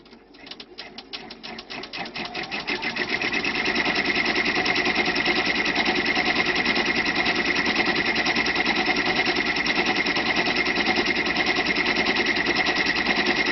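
An embroidery machine stitches a fabric appliqué bunny candy holder, starting with slow separate stitches that speed into a fast, even mechanical hum and clatter, close and continuous.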